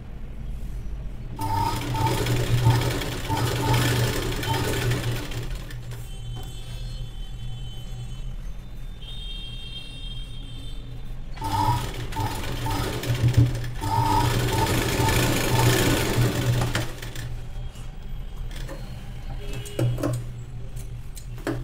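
A sewing machine stitches a fabric sleeve in two long bursts of steady, close mechanical whirring, with a quieter pause between them.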